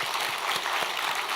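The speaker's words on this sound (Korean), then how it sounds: "다시 한번 박수 부탁합니다." Congregation applauding during a New Year's Eve church prayer service, a dense, even wash of clapping that carries steadily without a break.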